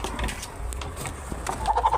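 Desi hens clucking on a poultry farm, a few soft, close clucks near the end over quiet background rumble.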